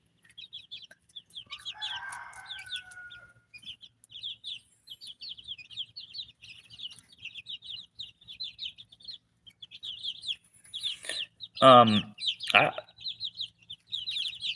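Backyard chickens fed on calcium, clucking and chirping in a steady chatter of short bursts, with a louder cluster of calls near the end and a brief spoken word.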